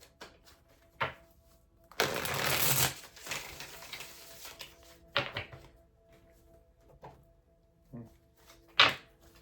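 A deck of tarot cards handled and shuffled close by, one longer riffling burst followed by scattered taps, slides and soft thumps in a quiet room.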